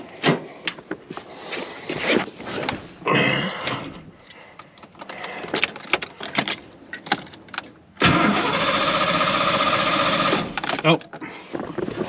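A Ford Fox Body car is cranked and started after an EGR cleaning, with bursts of cranking and ticking that settle into a loud steady idle, and someone talks between them.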